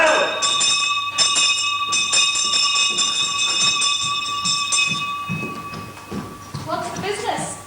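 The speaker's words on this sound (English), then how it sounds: "Ring the bell!" A bell rings in a stage performance of Macbeth, struck rapidly and repeatedly with loud, clanging, ringing tones. It carries on for several seconds, with voices shouting over it toward the end.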